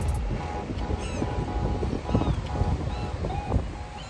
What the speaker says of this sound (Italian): C'è un vento assurdo, ma non ci arrendiamo